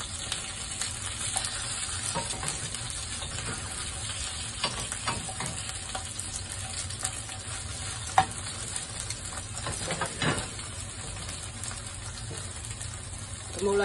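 Fish cakes pan-frying in a pan, turning golden, give a steady close sizzle with occasional stirring scrapes and small clatters throughout, with no talking.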